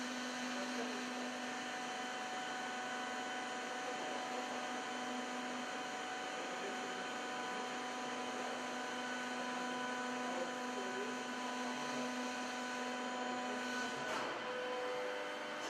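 A heavy-duty bending machine rolls thick steel plate, producing a continuous, even mechanical drone and hum at steady loudness, with a faint creak near the end.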